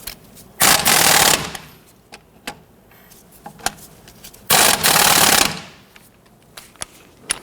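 Strut bolts being tightened on a 1992-1996 Toyota Camry front suspension: two loud, harsh rattling bursts of about a second each, separated by quieter clicks and taps of tools, with no talking.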